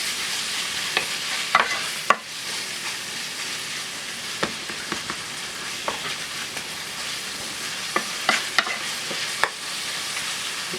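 Ground meat with chili powder browning in a hot pan gives a steady, close sizzle with occasional sharp scrapes and clicks as it is stirred.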